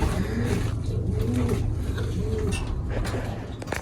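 Racing pigeons coo in soft, repeated rolling calls, close by and steady over a low background rumble.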